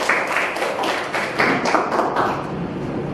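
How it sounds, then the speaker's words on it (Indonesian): A classroom of students applauds their classmates, with quick overlapping claps in uneven bursts that last throughout, fairly close and lively. "aplaus buat temannya semua"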